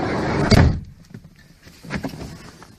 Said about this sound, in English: Just got yourself a sliding door.